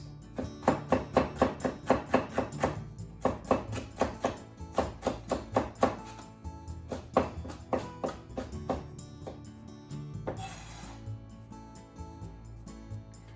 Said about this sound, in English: Bell pepper, cut into half. Remove the seeds and paste.